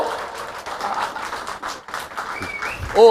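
An audience applauds at a literary festival debate, a dense steady patter of many hands clapping throughout, with a voice briefly audible near the end.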